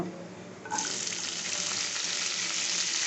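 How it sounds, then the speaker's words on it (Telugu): Mustard seeds hitting hot oil for tempering, a sudden loud sizzle and crackle that starts after a quiet moment and keeps on as a steady, close hiss. "ఆవాలు వేసుకుంటున్నా"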